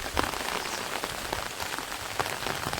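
Unseasonal rain falls on farmland where harvested produce lies heaped in the open, a dense, steady patter of drops striking surfaces close by, with scattered louder splashes and no voices.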